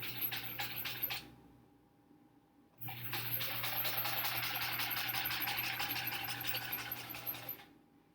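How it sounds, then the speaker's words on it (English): A sewing machine stitching a straight seam on a quilt block runs in two close, steady bursts: a short run, a pause of about a second and a half, then a longer continuous whirring run before it stops. "Still concentrating on sewing that straight line"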